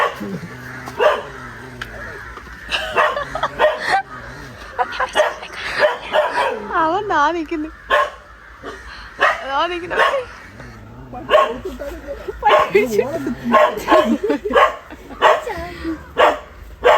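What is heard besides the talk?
dog barking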